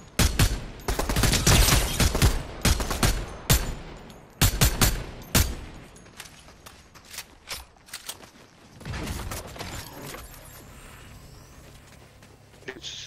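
Video game gunfire in a multiplayer shootout on an icy, snowy map: dense bursts of rapid automatic shots and fusillades up front, then sparser single cracks and short volleys fading into quieter mechanical clicks.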